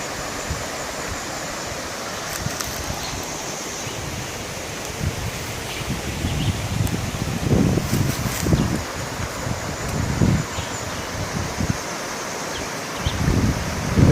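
A river flowing near an abandoned village on Ross Isle, St Thomas, Jamaica, a steady broadband rush of water with gusts of wind and rustling, continuous and fairly close, with no talk.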